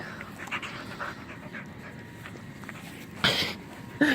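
A dog pants quietly and steadily nearby, soft rhythmic breaths with a few faint shuffles, then two sharper bursts of noise near the end.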